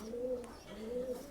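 Pigeons, a pet Andhara or Madrasi breed kept at home, cooing softly in two drawn-out rising calls, close and alone.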